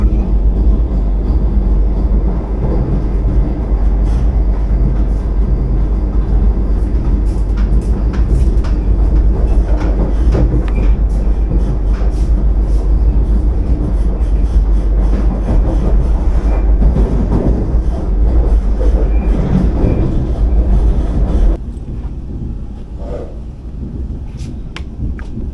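The Ernakulam–Bengaluru Vande Bharat special runs through Walayar station without stopping, giving a loud, continuous rumble with low-pitched roar and rail clatter that eases to a quieter level near the end.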